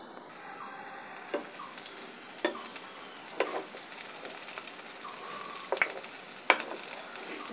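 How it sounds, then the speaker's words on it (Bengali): Gandha leaf and khesari lentil fritters fry steadily in hot oil, a continuous bubbling sizzle with scattered crackles and pops, close and moderately loud, no voices. "এক পাশে 10 মিনিটের মতন ভেজে নিতে হবে"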